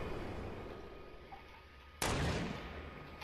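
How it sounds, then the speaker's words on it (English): A single sharp sniper rifle shot in the Fortnite battle royale video game cracks out loudly at the two-second mark, then a rumbling tail fades over a steady background of game ambience. "Somebody's shooting snipers."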